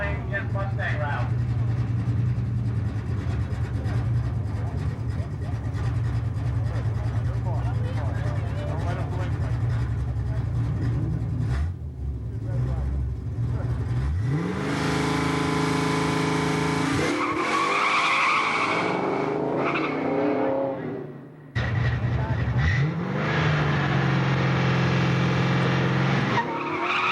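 A Ford Mustang makes a drag racing run at a Waterford, Connecticut drag strip: loud engine roar with rising gear-change sweeps and tire noise, a brief drop near the end, then another surging run, over continuous crowd and announcer talk.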